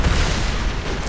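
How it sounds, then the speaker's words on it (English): A grenade skill going off in Diablo 3, played as a Demon Hunter: a dense, loud low boom that rumbles steadily for about a second with scattered crackle, no voices. "there's my actual grenade skill"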